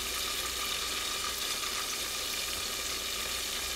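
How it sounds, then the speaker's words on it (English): Spicy tilapia fillet deep frying in a pan holding plenty of grease, giving off a steady, dense sizzle that stays even and close throughout. "I kind of got a lot of grease in here, so it's kind of deep frying"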